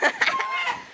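Chickens cluck in short, rapid bursts close by, a few quick calls over a second.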